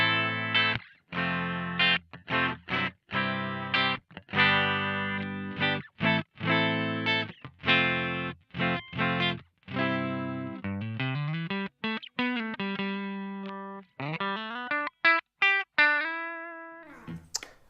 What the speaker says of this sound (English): Of course, I'm playing my Fender Stratocaster. This is my clean tone,